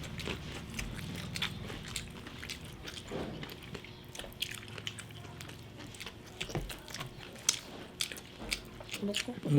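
Crunchy fried chicken bought from 7-Eleven is bitten and chewed close to the mic, with a series of crisp crunches and wet chewing at an uneven rhythm, partly under soft talk.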